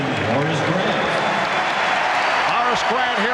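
A basketball arena crowd at the 1993 NBA Finals, Game 3, Suns vs Bulls, reacting to Horace Grant with a steady, loud roar of cheering, booing and applause, while a commentator talks over it.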